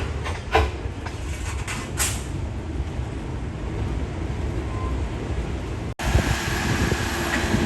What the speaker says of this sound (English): that guy's pushing the boxcar